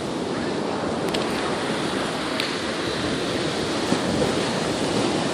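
Atlantic Ocean waves break steadily on a beach, a constant broad rushing wash of surf with some wind noise, loud and close and holding at an even level throughout.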